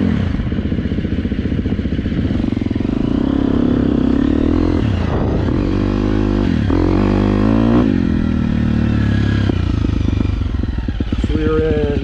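A 2023 Husqvarna FX350 dirt bike ridden near Pueblo, Colorado, its engine loud and close, revving up and down through gear changes, with a rider talking over it.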